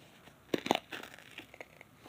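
A paper towel stress ball gets squeezed, giving a quiet, close crinkly crunch with a couple of sharp little pops near the start, followed by softer rustling.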